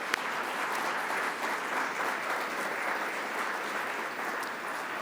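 Another round of audience applause for the speakers and host of a public forum at the Grange Insurance Audubon Center, sustained even clapping from a sizeable crowd that holds at a steady level throughout.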